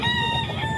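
Chickens and roosters at a poultry market in Bocaue crow and cluck in a brief, steady burst, close and fairly loud, with no voices.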